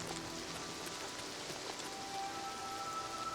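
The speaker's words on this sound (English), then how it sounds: "I hear rain sound with no raindrops." Steady rain in the video game Oblivion Remastered hisses continuously across the whole stretch, a soft even wash with faint droplet patter and no voices.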